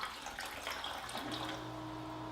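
Water pours steadily into containers, a constant splashing rush; the poured liquid is pH 9.5 Kangen alkaline water, set beside bottled waters.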